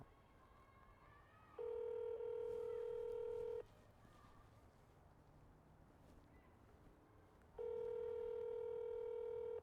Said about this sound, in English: So we're making a phone call through a computer.